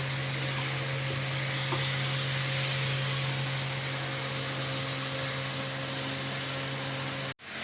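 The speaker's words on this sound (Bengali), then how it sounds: "এইবার আস্তে আস্তে কষাতে হবে খুব ভালো করে, একটু নাড়াচাড়াটা দিয়ে দিবে।" Desi chicken being slowly browned and stirred in a pan for chicken kosha, a steady loud sizzle with faint scraping, continuous and close, ending abruptly.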